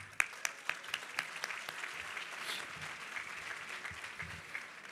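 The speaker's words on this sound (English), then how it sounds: "Round of applause for Hogg." An audience at a charity awards luncheon in Houston breaks into applause, a soft, steady wash of many hands heard from across the room, with a few sharper claps near the start.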